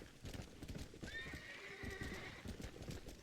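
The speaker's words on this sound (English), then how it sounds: "My horse isn't turning around." Horse hooves clip-clopping in the video game Red Dead Redemption, a steady close trotting rhythm with a clear neigh rising over it midway, no talk.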